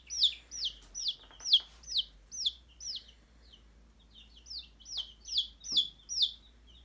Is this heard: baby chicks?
yes